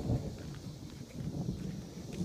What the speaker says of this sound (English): Thunder, it should be pouring on me in a moment